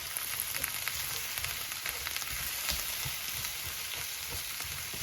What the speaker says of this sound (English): So now just continue cooking the veggies, stirring every minute until they're tender enough to your liking